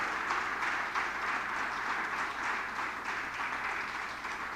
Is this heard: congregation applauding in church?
yes